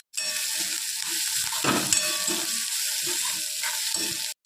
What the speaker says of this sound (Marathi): कांदा चांगलं थोडंसं परतून थोडं लाल झालं पाहिजे.